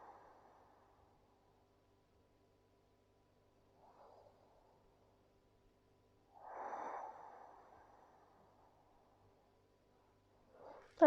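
Slow, deep breaths taken while lying face down on the belly in a yoga pose, soft and close, with long quiet pauses between the inhale and exhale swells.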